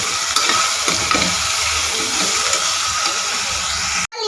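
Spices with salt and turmeric powder frying in a pan, a steady close sizzle with soft stirring scrapes, cut off abruptly at the end.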